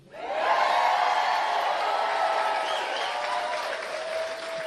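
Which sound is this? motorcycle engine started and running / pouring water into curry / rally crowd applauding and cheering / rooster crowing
rally crowd applauding and cheering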